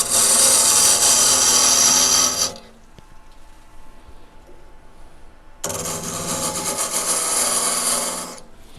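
A wooden magician's ball and vase piece, hollowed on a lathe, gives off two bursts of close, loud, rasping cutting noise separated by a quiet pause of a few seconds in which only faint motor hum remains.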